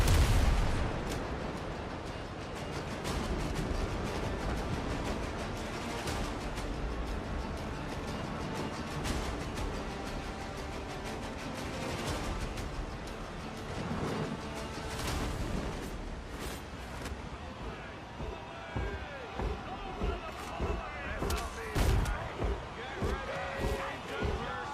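Ship cannon fire in the naval video game Windrose, repeated booming shots and explosions of varying loudness mixed with a player talking over the action, with a denser burst of blasts toward the end.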